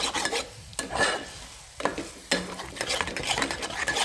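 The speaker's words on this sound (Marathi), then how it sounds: "आता हलवून घ्यायचं चांगला मसाला." Masala being stirred in a pan for a green-masala brinjal curry, with oil starting to separate: repeated close scraping and rubbing strokes over a light sizzle, alone and fairly loud.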